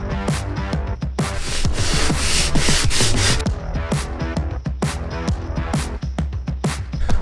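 Rough, rhythmic scraping of a sander worked back and forth over a camper van's wooden floor, close and loud, with no voices.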